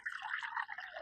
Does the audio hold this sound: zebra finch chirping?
no